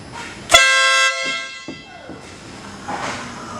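Car horn fitted with a new horn wiring kit, one short loud honk of about half a second, then quiet shuffling and a faint voice nearby.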